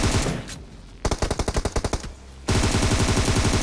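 Automatic gunfire in the mobile battle-royale game PUBG Mobile: a short burst of closely spaced shots, a pause, then a longer sustained volley, loud and close with no talking.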